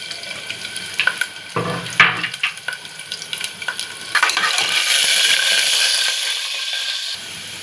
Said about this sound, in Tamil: இதில் 1 டீஸ்பூன் பூண்டு சேர்த்துக்கிறேன்.